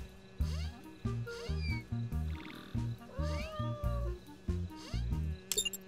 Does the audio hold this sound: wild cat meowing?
yes